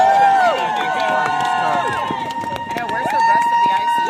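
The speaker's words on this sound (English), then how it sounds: "The crowd erupted in cheers" Picketing strikers on a hospital strike line in Medford erupt into loud, close cheering, with many overlapping shouting voices sustained across the whole stretch.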